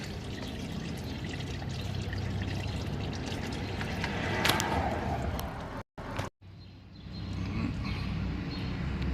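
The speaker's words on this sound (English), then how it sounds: "You just drain it, let it drain out." Dark used engine oil drains out of a car during an oil change, a steady pouring trickle that runs continuously, briefly cuts out for a moment, then resumes a little quieter.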